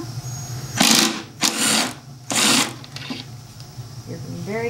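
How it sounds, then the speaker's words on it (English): An electric driver whirs in three loud, close bursts, spinning bolts out of a Subaru engine being disassembled, with a rising whine at the end and people talking faintly in between. "your little electric thing will spin those right out of there"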